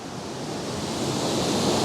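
Savage Falls waterfall pours in a steady, broadband rush of water that builds slightly in loudness, close by and continuous with no voices.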